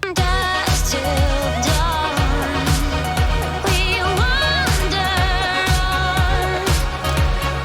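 Loud final chorus of an 80s-style synthpop song, driven by a punchy classic 80s drum kit with steady snare hits under bright layered synths and a melodic lead, dense and full throughout.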